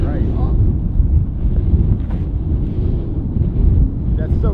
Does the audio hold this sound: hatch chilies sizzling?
no